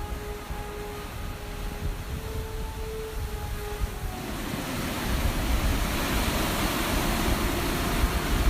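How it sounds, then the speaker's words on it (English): Huge waves off the Michigan coast give a continuous broadband roar of surf and wind that swells louder halfway through and holds steady. "Massive waves off the coast of Michigan."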